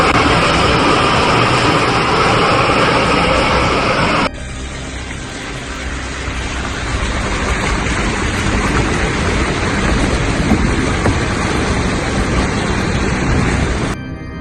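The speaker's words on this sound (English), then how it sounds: "A fierce hailstorm on the afternoon of June 5th attacked the Peony River, Heilongjiang, China." A fierce afternoon hailstorm on the Peony River in Heilongjiang, China: a loud, continuous broadband roar of pelting ice and rain, shifting abruptly to a slightly quieter, steadier hiss partway through, with no voices.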